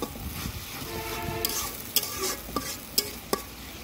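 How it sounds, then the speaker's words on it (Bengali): Spice paste with salt being stirred and sautéed in a pan for a hilsa curry, a soft sizzle under scraping spoon strokes, with several sharp clinks of the utensil against the pan spaced through the clip. "এই মশলাটা আমি সুন্দরভাবে কষায় নেব"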